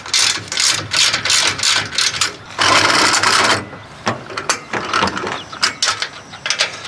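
Hand winch on a jon boat trailer ratcheting as the boat is pulled on, a rapid series of close, loud mechanical clicks in bursts with a short sustained grind midway, no talking.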